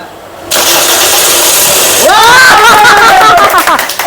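A freshly overhauled Toyota 1NZ engine is cranked at a workshop and fires up after about two seconds, settling into a loud, steady idle with a few quick revs; a voice speaks briefly over the noise.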